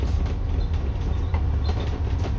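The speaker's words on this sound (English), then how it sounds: "So there's a pod departing for Heathrow Airport." An automated pod transit vehicle departs toward Heathrow Airport with a steady, close rumble and faint rolling clatter through a short stretch.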